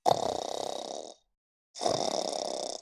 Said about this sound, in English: He lay down in the bed, and began to snore.